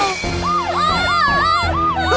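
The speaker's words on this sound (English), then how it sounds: "Hey, isn't that a siren? Yes, yes it is." A wailing cartoon siren sweeps up and down in repeated cycles, loud and close, with a low rumbling engine underneath.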